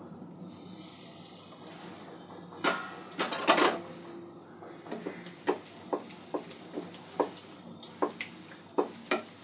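Chicken bread pockets fry one by one in a pan over a medium-low gas flame, a soft steady sizzle broken by light clinks and scrapes of a utensil against the pan.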